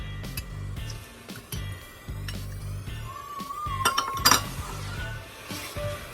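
A metal utensil scraping and clinking against a pot while stirring Thai khao mao dessert with young coconut; sharp, irregular clinks close by, with one louder cluster near the end and little talk.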